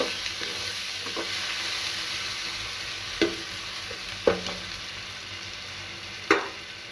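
Spices, garlic and onion fry with sugar in a pan, a steady close sizzle broken by several sharp scrapes and taps of a spoon being stirred, with no talking.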